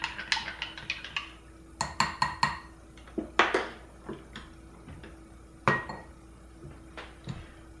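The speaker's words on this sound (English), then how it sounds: "I have a plastic spoon here. Just stir that up in good shape." A plastic spoon stirring stevia into water in a container makes a series of light ticks and clinks, quick bursts then scattered taps, close and quiet with no talking.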